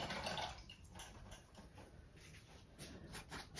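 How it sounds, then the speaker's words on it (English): A paintbrush rinsed in a water container during acrylic painting, giving a steady close swishing and faint splashing with no talk. "Rinse my brush out quickly."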